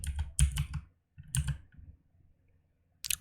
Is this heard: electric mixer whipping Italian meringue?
no